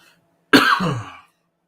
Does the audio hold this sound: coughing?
yes